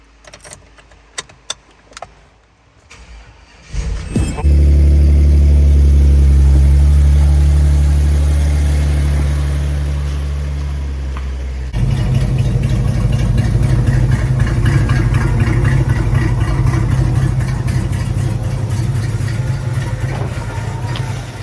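A Hummer H2 after a front differential bushing repair: keys jangle, then the engine cranks and catches with a loud roar and settles into a steady, close, rumbling idle that shifts pitch partway through; no voices.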